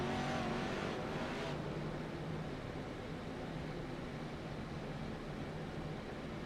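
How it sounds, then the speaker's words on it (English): A Whelen Modified race car at Concord is drifted through turn two, a dense, roaring engine and tire noise that stays loud and steady throughout, with a brighter burst at the start before settling into a continuous rumble. "Austin drifting it through turn 2. He's going to put on a drift show for you."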